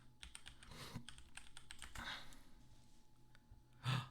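Keys clatter on a Kochs Adler typewriter in quick, uneven bursts, fairly faint and close, ending in a louder thunk near the end, with no talking.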